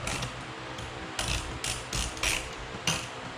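A ratchet socket wrench snugs up garage door hinge bolts on a Clopay door, giving short bursts of quick clicking pawl ticks, close and fairly quiet, spaced by brief pauses.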